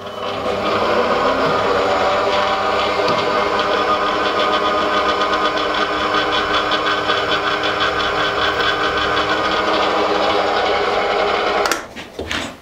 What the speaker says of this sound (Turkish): Şimdi tezgahımı çalıştırıyorum.